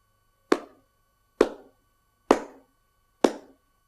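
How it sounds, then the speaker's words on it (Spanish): Flamenco palmas sordas, muted claps made by striking two cupped hands together, four evenly spaced dull thuds with short decays in a quiet room. "ahuecando ambas manos y golpeándolas una contra otra, produciendo un sonido apagado que suena así"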